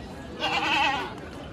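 A castrated four-tooth goat at a livestock market gives one short, wavering bleat of about a second, fairly close, over a low murmur of market background.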